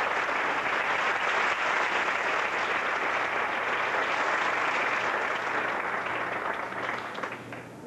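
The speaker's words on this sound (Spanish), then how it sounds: "pido que le aplaudan al Cristo que vive en él" A church congregation claps steadily and loudly throughout, a dense wash of applause that eases slightly near the end.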